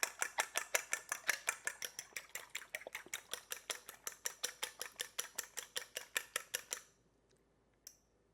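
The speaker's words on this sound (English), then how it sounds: "So in here I have 1 whole egg and some egg whites. So I'm just going to get that mixed up together." A whole egg and egg whites are whisked together in a bowl for tiny salty chocolate cookies: a fast, even run of close, crisp tapping strokes, roughly six per second, that stops abruptly near the end, followed by near silence.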